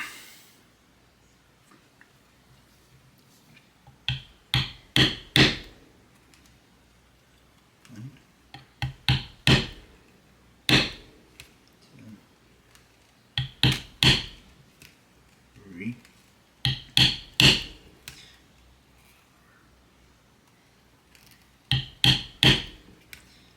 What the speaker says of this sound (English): 1 millimeter hole punch. And punch the holes out.